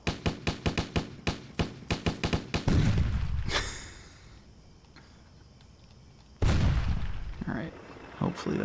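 Rapid bursts of cannon fire from the video game Stubbs the Zombie crack out in a quick run of about a dozen sharp shots. Two heavier booms follow, each with a lingering rumble, and a voice talks in between.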